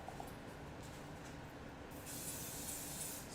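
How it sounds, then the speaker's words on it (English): Pam vegetable cooking spray hissing into a bowl, a soft continuous spray that brightens near the end, quiet and close. "I'm going to use a little bit of Pam spray or vegetable spray."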